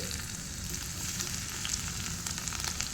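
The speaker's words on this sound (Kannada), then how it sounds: "ಹಾಗೆ ಇವಾಗ ಬೆಳ್ಳುಳ್ಳಿ ಚೆನ್ನಾಗಿ ಫ್ರೈ ಆಗಲಿ" Garlic frying in hot oil in a ladle as tempering for a Tulu-style fish curry, giving a steady close crackling sizzle throughout with no voice.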